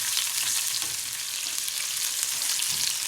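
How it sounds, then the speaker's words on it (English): Onions frying in a pan for Indian rasam (pepper water), a continuous bright hiss of sizzling oil, steady and close with no talking. "You put your onions in"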